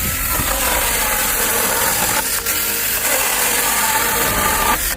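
A GTM CS18/127BL cordless battery saw cuts through wood outdoors with a loud, steady, continuous whine and grinding rasp that holds almost unbroken for several seconds.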